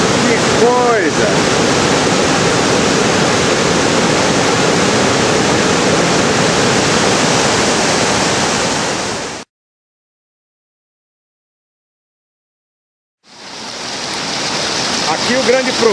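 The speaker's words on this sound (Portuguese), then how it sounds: "Aqui o grande problema é vencer o turbilhão aí, ó. Não é uma cascata, mas a água que vem correndo por baixo da outra água forma uma barreira" Turbulent water of the Piracicaba river rushing and churning in a loud, continuous roar, dropping to silence for a few seconds before the roar returns.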